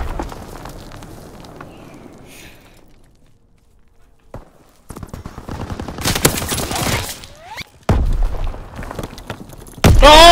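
Call of Duty WWII multiplayer combat: loud bursts of gunfire and explosive grenade blasts come in clusters after a quieter stretch of footsteps, with brief player talk mixed in.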